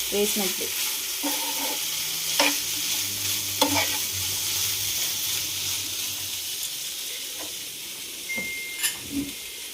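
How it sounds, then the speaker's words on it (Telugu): Chicken pieces frying in a pan as a homemade pizza topping, a steady broadband sizzle with occasional stirring scrapes and clinks, close and moderately loud, no talking. "మంచిగా ఫ్రై చేసుకోవాలి చికెన్."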